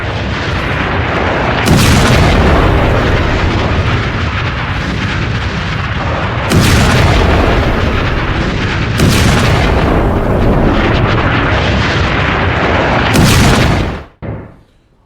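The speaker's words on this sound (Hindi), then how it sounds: "और इन धमाकों के बाद देखिए जरा" Missile and rocket strikes hitting residential areas, three or four heavy booming blasts spaced a few seconds apart over a continuous loud rumble, the last cutting off abruptly.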